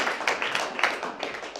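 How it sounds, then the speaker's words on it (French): A congregation at a church service applauding, a bright, uneven patter of many hands clapping that carries steadily through a short burst and is moderately loud. "Acclamez très fort."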